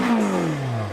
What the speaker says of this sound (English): Give me a rev.